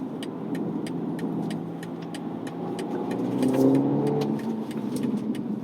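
A 2020 BMW M235i accelerates hard down a street at night, its engine drone building and rising in pitch from inside the cabin, with faint rhythmic ticking over the steady roar and no talking.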